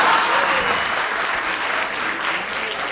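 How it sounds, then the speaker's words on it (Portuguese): Audience applause at a live comedy show, a steady dense clatter of many hands clapping close by throughout, with a faint murmur of the crowd underneath. "Mas também não precisa aplaudir de todas"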